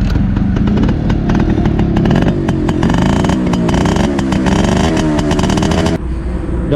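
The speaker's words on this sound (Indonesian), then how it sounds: "Ini sekali engkol nyala nih." A Suzuki RC100 Bravo motorcycle fires up on the first kick and settles into a loud, steady two-stroke idle with rattly, buzzing tone, close by, with a slight drop in level near the end.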